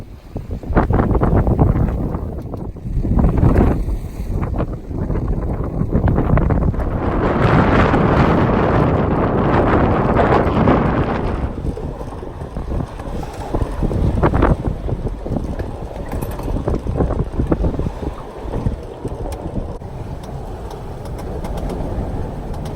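Strong wind roars across the microphone while growing waves rush and slap against a sailboat's hull beating upwind off Maui, a steady rough wash with gusty surges.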